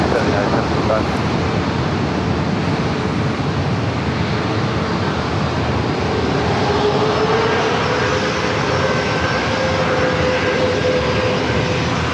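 At San Diego airport, a jet airliner roars loud and steady for a long stretch, a broad sustained engine rush with a faint rising whine, while a voice talks over it.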